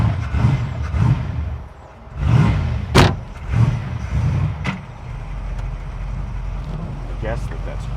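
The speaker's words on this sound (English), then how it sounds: "Oh my God, Jack, we're driving a Lamborghini!" A kit-car Lamborghini replica engine hums steadily from inside the cabin while driving, with a few knocks and thumps over the top and people talking through the first half.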